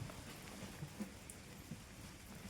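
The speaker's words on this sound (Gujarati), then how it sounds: "બસ આટલો જ વરસાદ હતો" Light rain falls steadily as a soft, continuous patter with a few faint drops standing out, quiet and fairly close, with no voices.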